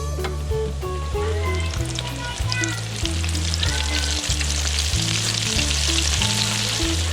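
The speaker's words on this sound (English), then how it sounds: "And into the fryer." Small crappie fillets, lightly dusted in flour, fry in a fryer, giving a loud, constant, close sizzle and crackle of hot oil throughout.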